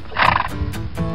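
A horse on a farm gives a single close neigh, a shrill whinny rising and then breaking into shorter stuttering pulses, heard clearly with no talking over it.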